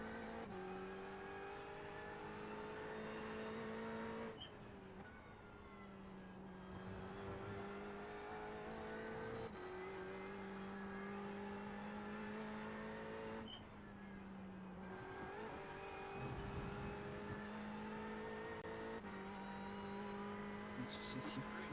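Race car in the iRacing sim game during a Le Mans sprint, engine droning steadily through the gears with pitch climbing under acceleration and dropping at two shifts or lifts; a voice talks faintly underneath.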